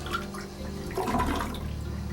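A household toilet flushing, a steady close rush of water swirling and draining through the bowl, heard alone for about two seconds.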